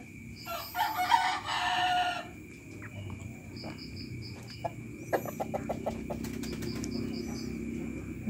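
A six-month-old rooster crows once loudly near the start, a harmonic call lasting over a second, followed by softer clucks and scattered bird chirps against a steady outdoor background hum.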